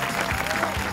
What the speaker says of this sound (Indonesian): Sekali lagi tepuk tangan warga Gokil